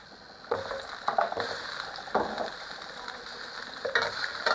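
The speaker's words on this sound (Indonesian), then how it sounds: "Kita tumis sampai harum." Garlic frying in a little cooking oil in a pan, a soft continuous sizzle with intermittent scraping stirs from a utensil, close and fairly quiet.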